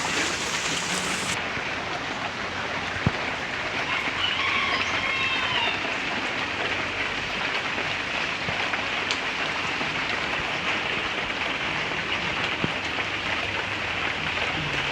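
Light summer rain falls steadily on a garden of potted plants, a soft continuous patter holding even throughout, with a faint distant rumble of thunder beneath.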